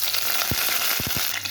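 Curry leaves hit hot coconut oil with fenugreek seeds in a pressure cooker, a close bright crackling sizzle with a few quick pops over the steady hiss.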